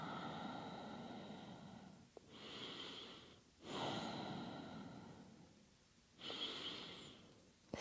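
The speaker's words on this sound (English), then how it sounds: "So deep, slow breaths now." Deep, slow breathing during a yoga session, three long drawn breaths each lasting over a second, close and soft with quiet pauses between.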